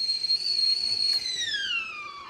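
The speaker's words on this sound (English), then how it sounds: "I'm super excited to use this whistling tea kettle" A kettle's high, steady whistle sounds close and loud, sliding slightly in pitch and dropping lower as it fades near the end.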